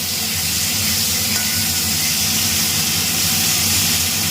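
A pot of Bengali chorchori mixed vegetables simmers on a home stove, giving a steady, even sizzle and hiss that holds at a constant level throughout with no talking.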